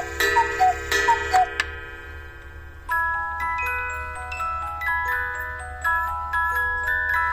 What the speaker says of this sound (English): It's of course an original clock made in the Black Forest.